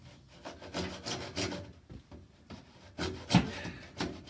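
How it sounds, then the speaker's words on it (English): Hand saw cutting through material under a bath during a bathroom demolition, heard as a series of rough, rhythmic rasping strokes with brief pauses, fairly close and alone. "while he's trying to saw that"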